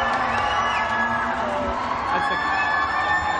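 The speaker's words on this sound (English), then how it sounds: "Big hands of applause." An audience at a gamescom award presentation cheers and applauds, a dense, loud, continuous crowd roar with whoops filling the whole moment.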